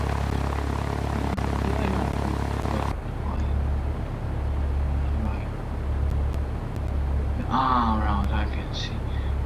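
A Cessna 172 propeller engine on a carrier approach in a flight simulator hums as a steady droning tone that shifts abruptly in pitch and character early on, then holds a constant buzz.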